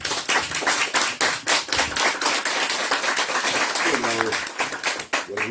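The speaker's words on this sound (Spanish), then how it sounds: "pido un fuerte aplauso" Applause from the audience at a book launch for "Estanislao López Nuestro Contemporáneo", with dense clapping throughout and a few voices speaking over it near the end.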